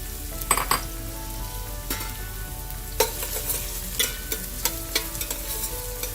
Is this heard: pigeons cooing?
no